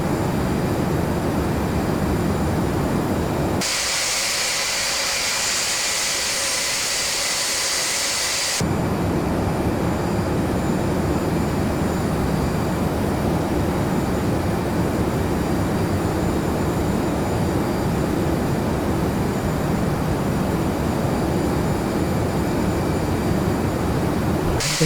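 Douglas DC-8 jet engines in an Aerosoft flight simulator during a challenging approach to San Diego, a steady broad engine roar throughout with a brief brighter, hissier surge partway through, no talking.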